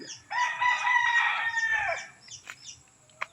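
A backyard hen clucks loudly and steadily for about a second and a half, then trails off into a few scattered softer calls and a sharp click near the end, with no talking.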